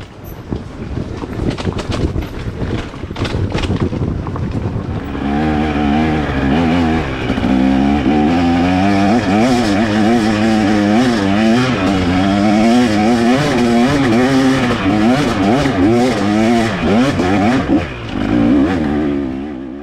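A trail motorcycle on a hill climb near Goshen, New Brunswick screams at full throttle in second gear, the engine note wavering under load for a long, loud, close stretch after an opening of lower, choppier revving.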